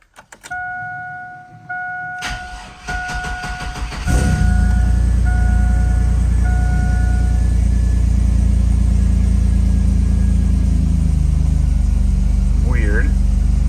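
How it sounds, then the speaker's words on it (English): A street-driven car with 2-piston calipers and a manual brake conversion replacing Hydro Boost starts with door chimes, then its engine fires up and settles into a loud, steady idle and drive rumble throughout. "First test drive with the new brakes."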